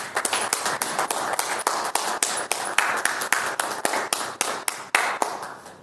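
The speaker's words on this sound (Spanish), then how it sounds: "ciudadano Aristeo Duarte Romero, para quien pido un fuerte aplauso" Audience applause at an ejido ceremony in Ecatepec, a steady run of dense clapping from a crowd that holds for several seconds, fairly close and loud, with no talk over it.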